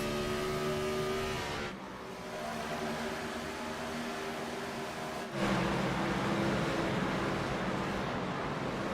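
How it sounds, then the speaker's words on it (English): Race car engines droning at steady throttle around the New Hampshire oval in an online racing league event, a continuous loud tonal roar with shifting pitch and two abrupt changes in engine note. "And you can hear the throttle control"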